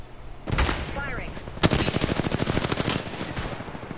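Automatic gunfire in a competitive video game match, a steady rapid rattle of evenly spaced close shots that starts with a sharp crack and keeps firing to the end, with a voice over it.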